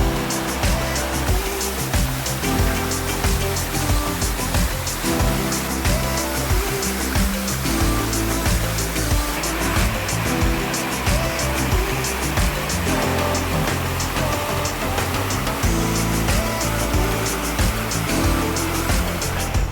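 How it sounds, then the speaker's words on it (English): A waterfall on the Timpanogos summit loop gives a loud, steady, close rushing roar that runs unbroken throughout with no voices. "check out this beautiful waterfall I'm looking at now"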